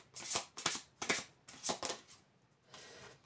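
Tarot cards shuffled by hand for a reading, several quick riffling bursts close by with short pauses between, fairly quiet, no voices.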